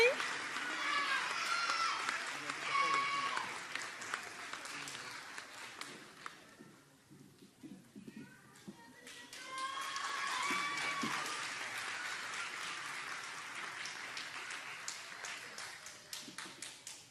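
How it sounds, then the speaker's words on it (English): Sustained applause from an audience at a convocation award presentation, a steady patter of many hands that dips briefly midway, with talking over it. "Let's give them one more round of applause."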